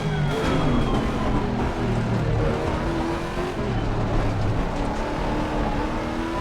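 A Lexus RC F GT3 race car in the Assetto Corsa Competizione racing game, with its engine droning and shifting pitch loudly and continuously as it laps a circuit.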